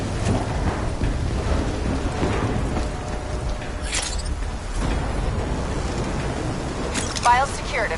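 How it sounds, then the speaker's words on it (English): Steady rain and rumbling storm noise from the Black Ops 3 campaign fill the scene throughout, a constant broadband wash with deep low rumble, overlaid by game effects and a brief voice near the end. "Storm's getting worse."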